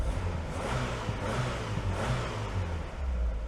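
A Wartburg car engine runs on a dyno, humming smoothly and steadily with a low, even drone that rises slightly in a couple of places. The sound is moderately loud and close.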